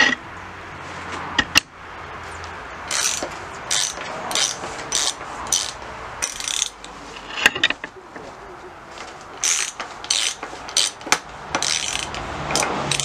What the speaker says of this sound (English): we are working with a 24mm socket